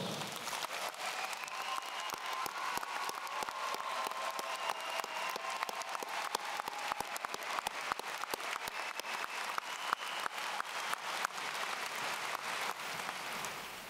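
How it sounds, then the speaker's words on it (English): Graduation ceremony crowd at a high school applauds, a continuous, fairly distant spread of many hands clapping with scattered sharper claps, lasting well over ten seconds. "Please offer a round of applause for our door openers."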